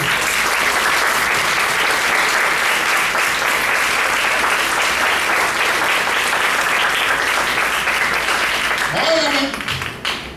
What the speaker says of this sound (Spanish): Denle un fuerte aplauso a Jesucristo, por favor.